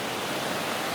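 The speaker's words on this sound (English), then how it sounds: "Like this water is rushing right by the trail." Water rushing right beside a trail near Banias Falls, a dense, steady broadband roar like a stream or small cascade, close and continuous with no voices.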